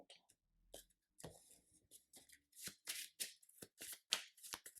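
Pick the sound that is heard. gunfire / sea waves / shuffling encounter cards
shuffling encounter cards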